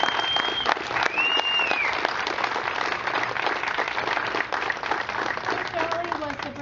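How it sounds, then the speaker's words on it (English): A rally crowd gathered in support of teachers claps and applauds steadily and loudly throughout, a dense wash of hand claps with scattered cheers and whistles. "I wonder if we could have a big round of applause for them."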